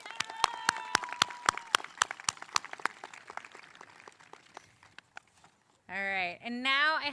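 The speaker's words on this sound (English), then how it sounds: "let's give one more round of applause for our speakers" Scattered clapping at a high school graduation for the Class of 2023, a few sharp claps at first that thin out and fade, followed by a voice speaking at the end.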